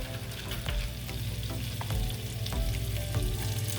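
Minced garlic frying in a pan makes a constant, close crackling sizzle, with light utensil clicks and stirring knocks scattered throughout.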